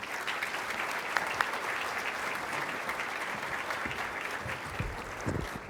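Audience applause welcoming speaker Charlie Shields at an introduction, a steady, sustained round of clapping from a crowd that holds evenly throughout.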